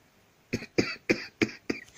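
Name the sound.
cough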